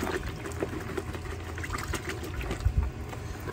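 Water runs and splashes steadily up close, rinsing baking soda off corroded marine and automotive electrical connections, with a few louder gurgles near the end.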